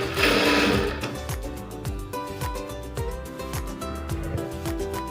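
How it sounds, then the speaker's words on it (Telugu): Sewing machine stitching a thin dart on the front panel of a blouse, a steady rapid mechanical whir with even stitch pulses, close and loud, no talk. "ఆ తర్వాత వచ్చేసి సన్నగా ఒక స్టిచ్ వచ్చేలాగా స్టిచ్చింగ్ చేసుకోవాలి."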